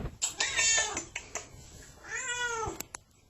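A cat meows twice, a long drawn-out call followed by a second rising-falling meow, close and clear with no talking.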